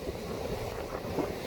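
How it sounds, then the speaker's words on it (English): Low, continuous rumble of a four-metre ocean swell breaking on a rock shelf in the distance at Little Bay, a steady wash of surf noise with some wind against the microphone. "You can probably hear that swell impacting in the background."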